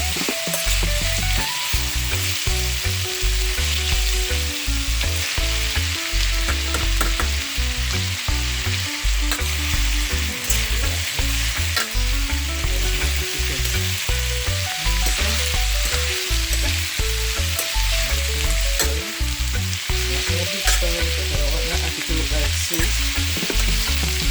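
Ackee and saltfish with seasoning fries in a pan for a Jamaican dish, giving a loud, dense, continuous sizzle. Bursts of crackle and stirring scrapes run through it without pause.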